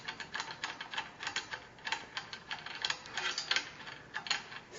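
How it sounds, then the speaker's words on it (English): Quiet, steady metallic clicking and ratcheting as a C-clamp is finger-tightened onto a stage lighting instrument, a rapid irregular run of small ticks heard close with no talk. "C-clamp on, held in place,"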